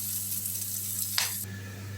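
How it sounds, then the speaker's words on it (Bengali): Chopped onion and green chilli drop into hot oil with a brief splash that settles into a soft, steady sizzle heard close up. "এবার এটা আমি দিয়ে দিলাম তেলের উপরে"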